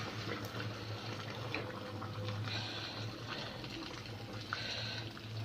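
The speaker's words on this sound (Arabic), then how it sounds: "ونحط عليها الماء اللي بتغلي اهي" Boiling water poured into a pot over onion, tomato, carrot and pepper: a continuous close splashing and gurgling stream, steady in level throughout with a low hum underneath.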